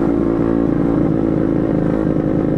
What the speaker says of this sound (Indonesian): Adam test ride motor Beat Karbu 150 cc kurang lah